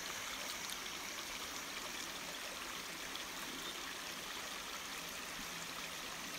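A wild stream flows in a steady, even rush of water, soft and continuous, with no voices over it.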